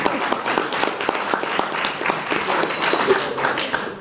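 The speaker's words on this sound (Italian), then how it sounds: "Fate un applauso alla signora." Audience applause fills a live talk venue, a dense, steady clatter of many hands clapping close and loud throughout with no pauses.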